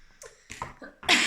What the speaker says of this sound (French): C'est pas très glamour de tousser comme ça, je suis vraiment désolée.